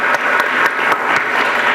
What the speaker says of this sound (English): let's give one more round of applause to the mayor